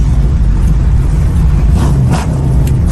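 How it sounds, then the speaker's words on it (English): A muscle car engine rumbles loud and steady at close range from inside the car while driving, a deep continuous drone with slight swells and no talk. "Car sounds mean."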